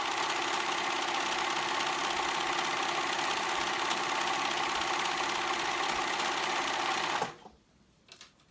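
A sewing machine stitches the side seams of a knit sweater, running at a steady, continuous pace for about seven seconds before stopping abruptly, leaving brief quiet handling noise.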